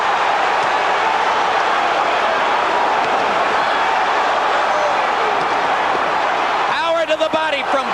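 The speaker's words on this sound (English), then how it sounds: "Crowd gets excited." An arena crowd roars steadily with excitement at the 1991 Holyfield versus Foreman boxing match, a dense continuous swell of cheering under a commentator's voice.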